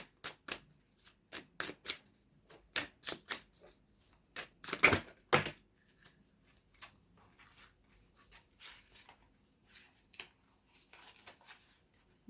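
Tarot cards are shuffled by hand in sharp riffling bursts, several quick flurries in a row followed by softer, sparser handling, close and clear in a quiet room with no talk.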